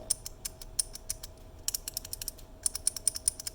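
Clicky 3D-printed keyboard key switch pressed repeatedly, giving sharp, bright clicks in uneven bursts of quick presses, close and fairly quiet with a faint steady hum underneath.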